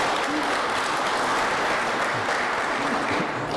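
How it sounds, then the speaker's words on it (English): Wedding guests applaud steadily at a ceremony, a dense, continuous clatter of many hands that holds even across the whole stretch, close and full, with no voices standing out. "I think that deserves another round of applause"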